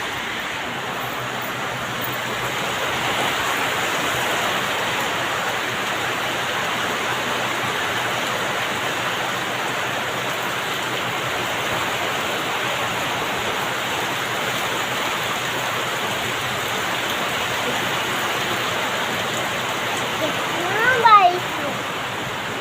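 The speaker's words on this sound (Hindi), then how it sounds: "चलिए बारिश दिखाए आप लोग को।" Heavy rain falls in a dense, even hiss that holds steady for over twenty seconds, with a brief louder knock near the end.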